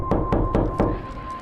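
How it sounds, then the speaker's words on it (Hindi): Four loud, heavy knocks on a door that is locked from the inside, used as a horror story sound effect, come close and evenly spaced in a quick burst before a short reverberant fade. "दरवाजा अंदर से बंद था, तो उन्होंने जोर से दरवाजा खटखटाया"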